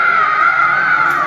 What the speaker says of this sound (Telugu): ఓకే అరుపులు వినపడుతున్నాయా?